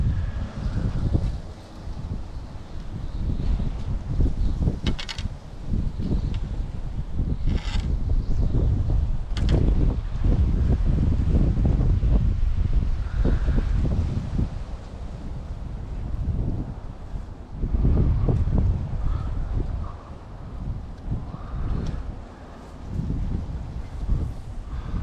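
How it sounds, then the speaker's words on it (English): Strong wind buffets a microphone outdoors on a fishing trip in the Florida Keys, a continuous low rumble with gusty surges lasting throughout, loud and close. "As you can tell, it's very windy."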